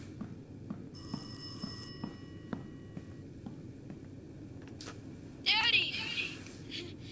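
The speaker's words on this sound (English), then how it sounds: "make the phone ring." A telephone rings in the horror video game Rise of Insanity: a burst of bright electronic ringing, then a louder second ring a few seconds later, over a low humming ambience.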